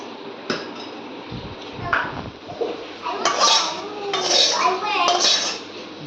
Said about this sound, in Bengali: আমি কড়াইটা পরিষ্কার করে নিই, মাছের তেলটা ঢেলে দিচ্ছি।